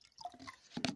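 Drinking water for a pet cat poured into an outdoor water container, a short splashy trickle rising at the end, close and fairly quiet.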